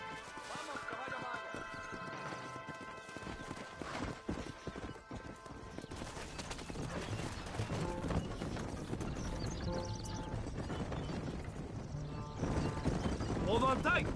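Horse hooves clip-clopping at a steady gallop in a Red Dead game set in New Mexico, with a horse whinnying at moments, layered under music and a wagon's rumble throughout.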